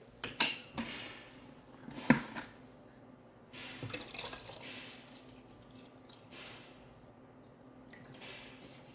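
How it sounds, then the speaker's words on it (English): Water trickles and drips into the plastic water tank of a Nespresso Vertuo coffee machine as it is filled at a sink, with a few sharp clinks near the start and a steady, soft flow throughout. "I'm going to fill up the water tank"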